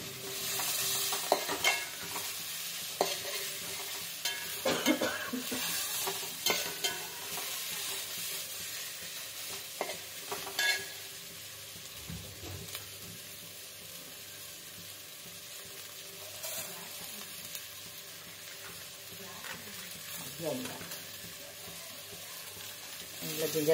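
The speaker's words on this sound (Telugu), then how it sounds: "2 ఆనియన్స్ని బాగా సాటే చేసుకుందాం. లైట్ బ్రౌన్ కలర్ వచ్చేంత ఫ్రై చేయాలి." Two onions sauté in a pan toward light brown, a continuous close sizzle with repeated utensil scrapes and stirs, busier at first and then settling into a quieter steady fry, with no speech.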